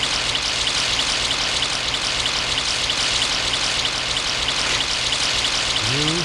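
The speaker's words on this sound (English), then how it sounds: "Oh, bother. It's raining." Steady, dense rain pattering on surfaces, a constant hiss of drops with a low rumble underneath, uninterrupted throughout.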